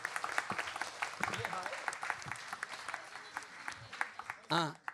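A studio audience applauds loudly during a Nepali TV show, a dense patter of clapping that fills most of the stretch while a voice talks over it and breaks through clearly near the end.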